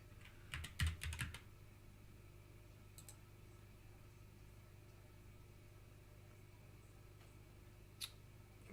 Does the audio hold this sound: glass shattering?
no